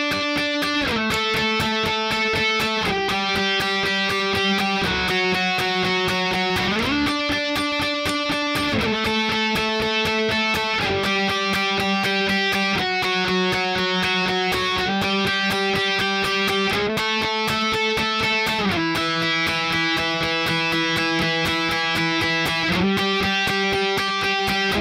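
Electric guitar plays the intro lead, a fast, steady picked melody of repeated notes stepping through chord shifts, loud and continuous with no voices.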